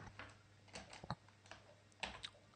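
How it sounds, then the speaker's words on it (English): Soft keystrokes on a computer keyboard, a handful of scattered taps at an uneven pace, quiet and nearby with no speech. "let's go ahead and type in"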